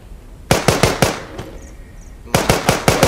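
Rapid gunfire bursts from guns in the mobile game The Walking Zombie 2, two quick volleys of sharp, loud shots separated by a short pause with a faint electronic tone between.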